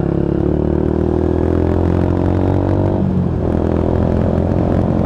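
A Lexmoto Tempest GT 125 motorcycle with a loud aftermarket exhaust can burbles and drones while riding, its engine tone rising steadily and then dropping sharply at a shift, loud and close throughout with wind rumble underneath.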